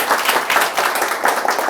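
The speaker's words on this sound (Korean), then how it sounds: "박수 한번 쳐주십시오" Audience clapping at an in-person exam-strategy information session, a dense burst of steady applause from a crowded room, fairly loud and continuous, with no talk over it.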